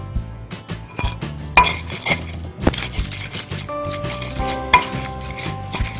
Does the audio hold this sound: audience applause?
no